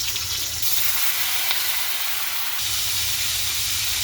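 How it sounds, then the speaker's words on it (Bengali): Whole spices including cinnamon fry in hot oil for a rustic fish-head curry, a loud, continuous close hiss and sizzle with a low rumble beneath, no voices. "আমি যে তেলে দিয়ে দিলাম এখন আমি মশলাগুলা দিয়ে দিলাম"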